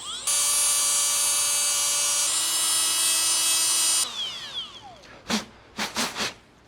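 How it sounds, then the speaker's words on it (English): A grinder works the thread of a Dana 60 axle nut tool with a loud, steady high whine for several seconds. It then winds down and is followed by a few scattered metallic knocks and scrapes. "I'm going to grind away a little bit so I have a cleaner thread to start with."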